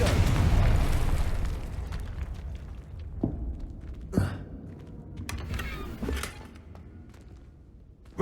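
Confringo fire blast spell cast in the Hogwarts Legacy video game, heard as a loud rumbling burst at the start, then several sharp crackling pops scattered through the following seconds over a steady game background.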